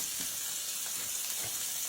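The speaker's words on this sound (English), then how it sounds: "Sear up this nice piece of cube steak." A piece of cube steak searing in hot oil in a pan, a steady bright sizzle with a few soft shifts, close by and without talk.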